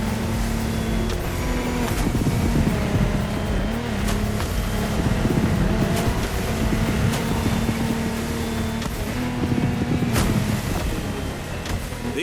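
Powerful offshore racing boat engines in The Crew Motorfest roar continuously at high speed, their tone rising and falling with rushing water and wind noise throughout.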